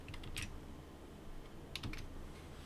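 Two soft computer keyboard key presses, one early and one near the end, each a faint, quick click against a quiet room background.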